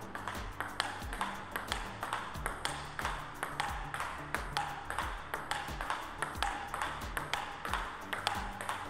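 Table tennis ball struck repeatedly against a paddle with DHS MX-P rubber and bouncing on the table, a rapid steady rally of sharp close pings and taps.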